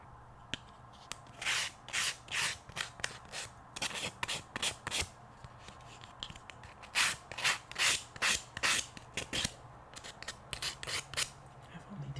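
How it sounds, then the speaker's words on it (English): Laser-cut wooden puzzle pieces being popped and pushed out of their sheet, close scraping and rasping bursts in uneven clusters separated by quiet pauses, no talking. "I'm going to go ahead and pop these pieces out"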